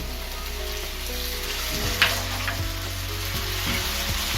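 Soya sauce hits veg Manchurian in a hot pan, setting off a steady loud sizzle with a brief burst as the liquid lands, followed by a few stirring knocks.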